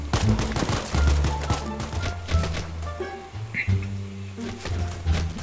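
Gunfire from a weapon in the online video game Vice Online, a rapid series of loud, punchy shots in uneven bursts with brief gaps, close and dominant in the game mix.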